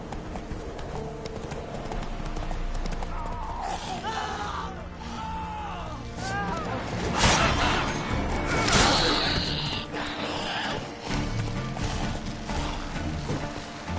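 A horse galloping in The Witcher 3 video game gives rhythmic clip-clop hoofbeats mixed with clattering harness and ambient game sounds, fairly loud and continuous, with a louder burst midway.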